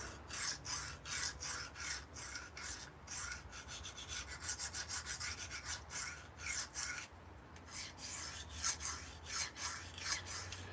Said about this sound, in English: we're using this 120 grit Atoma to take off any of the old edge